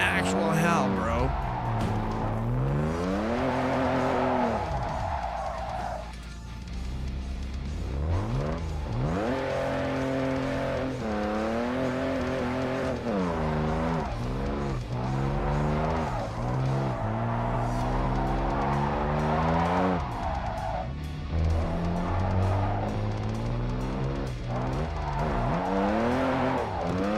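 Engine roar and tire squeal from a car held sideways in a long drift in the racing game Japanese Drift Master, played on a MOZA R5 wheel, with pitch swooping up and down constantly and someone talking over it.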